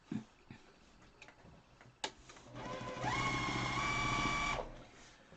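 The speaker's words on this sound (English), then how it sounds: "So now you're going to sew this piece on," Sewing machine stitching a small pink and triangle quilt square block, a few clicks and handling noises and then a loud close run of rapid mechanical whirring for about two seconds before it stops.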